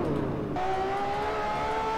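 Game engine of a zombie car in an Upin and Ipin driving game, with a brief burst of broadband rush that cuts to a smooth, slowly rising whine held over continuous road noise.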